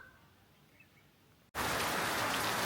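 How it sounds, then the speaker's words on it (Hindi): Heavy monsoon rain pours outside near a forest in India, a dense, loud hiss that bursts in suddenly after a quieter stretch of softer dripping ambience. "तो आप बारिश देख सकते हैं"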